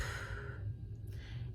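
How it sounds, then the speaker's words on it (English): A slow, soft exhaled breath during a guided deep-breathing meditation, a close airy sigh that fades out over about a second with nobody talking. "and exhales."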